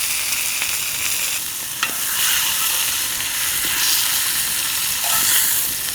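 Thick wagyu steaks sear loudly in a pan, a dense, continuous sizzle with occasional crackles and pops running throughout, close and alone without talk.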